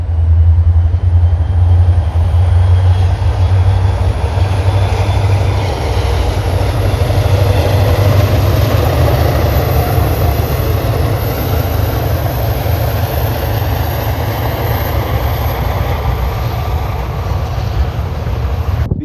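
An SD60M diesel locomotive leads a local freight train racing past a station. A loud, sustained rumble and roar of the diesel engine and rolling cars holds for the full stretch, close by, with a faint high whine above.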